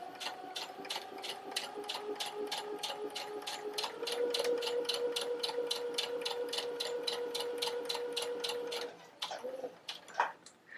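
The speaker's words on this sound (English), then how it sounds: "When I reach that mark, I'm just going to hit my back stitch, take 1 or 2 stitches, and then continue on to the end." A sewing machine runs steadily, stitching a gathering line to the end of the fabric, its rapid even needle clatter close and continuous for about nine seconds before stopping and giving way to a few faint clicks.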